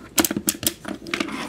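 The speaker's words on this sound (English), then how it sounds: "Fold in these wings here." Small plastic wings on a Transformers Energon Hot Rod toy fold in with a quick run of sharp clicks and ratchety snaps, close and crisp, over about a second and a half with no talking.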